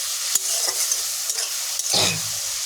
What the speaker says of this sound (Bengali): আমি মশলাটা একটু ভেজে নেব।